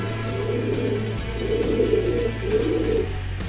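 Racing pigeons coo in a Belgian loft during a 2017 visit, their soft, repeated warbling calls rising in three bursts over a steady low hum.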